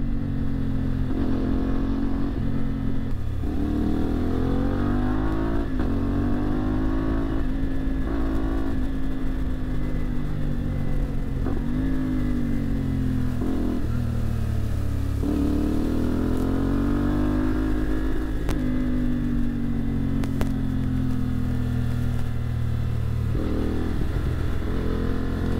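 A Triumph Tiger Sport 660 motorcycle engine rumbles and revs repeatedly, rising and falling in pitch over a continuous loud drone, heard up close.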